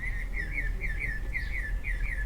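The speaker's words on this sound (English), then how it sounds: "Man, that bird is loud." A bird chirps loudly and repeatedly near a storage unit, bright rising-and-falling notes repeating about twice a second, steady and close over a low background hum, with no voices.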